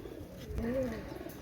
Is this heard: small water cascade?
no